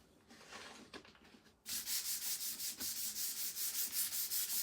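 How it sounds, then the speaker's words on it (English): Sandpaper rubs a skinny wooden sign piece by hand in even back-and-forth strokes, a close rhythmic rasp that starts after a quieter stretch of handling. "And gently sand our pink cloud rectangle here."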